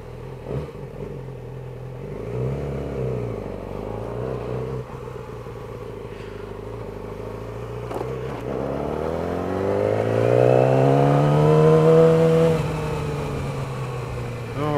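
A 600cc sportbike pulls away at the start of a ride, its engine idling, then revving and climbing through rising pitch sweeps as it accelerates, steady and fairly loud up close with no talking.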